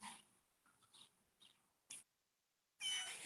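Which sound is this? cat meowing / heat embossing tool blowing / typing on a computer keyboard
cat meowing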